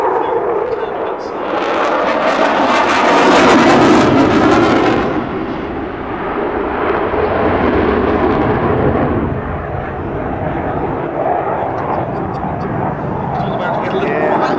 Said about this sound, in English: He now put the Typhoon into a minimum radius turn to recapture the display line